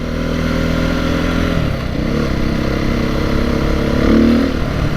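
A 2022 Beta 430 RR-S dirt bike engine drones steadily up close, rising briefly in a short rev near the end, with no talking.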